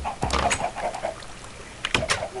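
Farm chickens clucking and squawking close by, short repeated calls in two bursts with a quieter pause between.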